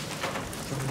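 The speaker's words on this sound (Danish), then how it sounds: "Det regner." Rain falls steadily as a continuous wash of patter, close and even throughout, at an abandoned biker clubhouse.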